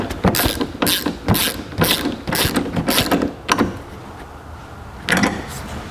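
A screw or bolt being driven back into a Honda EU3000IS generator after service, a run of quick ratcheting clicks in a steady rhythm, close and clear, pausing near the end before one last click.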